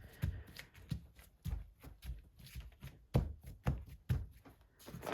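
Hands patting a wet gel print on paper: a series of soft, quiet dabbing taps in an irregular rhythm, close and alone.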